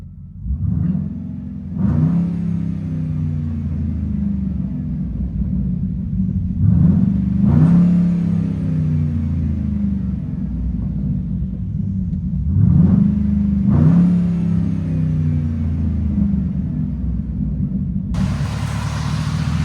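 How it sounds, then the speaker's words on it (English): A 2010 Chevy Express 3500 van's 6.0L V8 revs repeatedly from idle through true dual straight pipes, each burst rising into a loud, raspy roar before dropping back to a deep rumbling idle. "Chevy Express 3500. Fully straight pipe, true duals."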